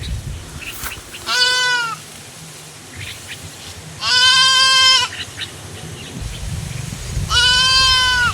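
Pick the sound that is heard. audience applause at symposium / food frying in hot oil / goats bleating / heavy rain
goats bleating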